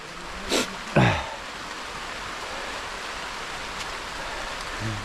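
Steady outdoor rain hisses evenly throughout, with a couple of brief louder splashes or knocks near the start and no speech.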